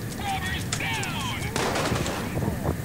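Shotgun and AK rifle fire in Payday 2 during a heist, heard as a quick cluster of sharp gunshots with some overlapping bursts in under three seconds, loud and close amid the game's background noise.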